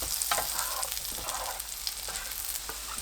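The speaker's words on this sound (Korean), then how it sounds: "다진 마늘 6분의 1큰술 넣고 20초 볶습니다." Minced garlic and button mushrooms stir-frying in butter in a pan, a steady close sizzle with soft scraping stirs on top, no talk.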